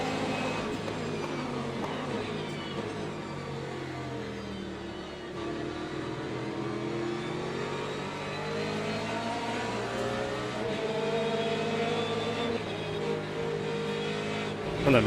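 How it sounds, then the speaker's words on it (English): A Lamborghini race car engine revs hard under repeated throttle on track, a loud, continuous roar rising and shifting through gears over fifteen seconds, with a commentator talking over it. "Lamborghini's getting quite happy, trigger happy with the throttle, struggling for traction in a lot of places."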